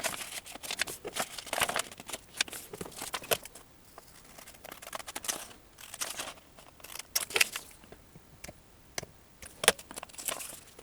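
Scissors snip through paper in short, close bursts while cutting out a small cape pattern, with rustling handling noises between the cuts and brief pauses in the rhythm.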